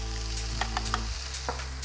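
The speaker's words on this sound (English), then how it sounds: "make sure you get that paste coated in enough of the oil to really start frying it out" Curry paste fries in a generous amount of hot oil in a pan for a snapper curry with ginger and turmeric, a steady close sizzle broken by a few soft clicks and scrapes of stirring.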